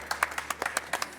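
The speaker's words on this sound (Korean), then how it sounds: "우리 정씨한테 박수 한번 치자" Several people clapping together in a quick, uneven burst of hand claps, fairly faint and brief, with a bit of background noise.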